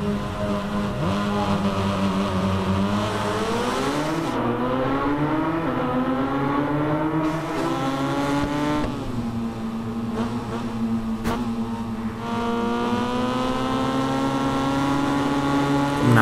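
A motorcycle engine in the racing game Ride 5 on PS5 whines at high pitch, revving up and down continuously as it races, loud and close with a brief gear-shift dip.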